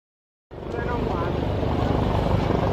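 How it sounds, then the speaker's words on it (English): A Chinese-made Z9 helicopter of the Ghana Air Force at an independence anniversary parade in Ho makes a sudden, steady, loud rotor and engine roar with a fast chopping pulse. A voice may speak beneath it. "The helicopter you see today is one of the helicopters of the Ghana Air Force. It is called the Z9."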